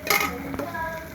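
Chilli chicken frying in a pan, a short burst of sizzle with a stirring scrape and faint pan clatter, close and moderately loud, no talk.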